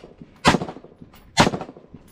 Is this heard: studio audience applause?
no